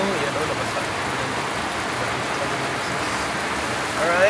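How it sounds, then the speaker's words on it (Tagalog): Heavy rain pours steadily and loudly, likely while waiting at a vehicle with a transmission gear issue, as a dense continuous hiss that stays even throughout, and a brief voice-like chirp comes near the end. "kasi malakas yung ulan mga ka-idol"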